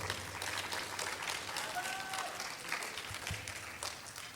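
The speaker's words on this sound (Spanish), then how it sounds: "Damos la más cordial bienvenida con un fuerte aplauso al doctor Manuel Contreras." University audience applauding to welcome a speaker, a soft, distant wash of many hands clapping that stays fairly even throughout.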